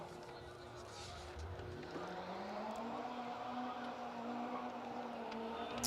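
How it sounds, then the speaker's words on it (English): A Mark III Vauxhall Astra rally car's engine drones and rises in pitch as it passes at a distance on an asphalt rally stage, with crowd murmur and outdoor noise throughout. "the lovely Mark III Astra"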